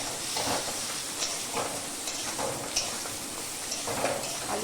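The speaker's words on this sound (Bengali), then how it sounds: "আলুটা ভাজি একটু।" Potatoes frying in an oil-filled pan while an egg tadka is cooked, a steady close sizzle broken by repeated scrapes and stirs of a utensil, with no voices.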